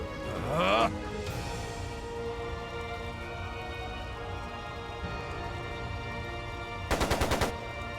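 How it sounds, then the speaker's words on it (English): Rapid machine gun fire bursts out in a Trails of Cold Steel II battle scene, a tight staccato volley standing out near the end over a busy bed of game music and effects. "It sounded like a machine gun."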